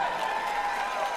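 Large awards-show audience at The Game Awards applauding, a dense even wash of clapping and crowd noise heard from a distance, steady throughout the short moment.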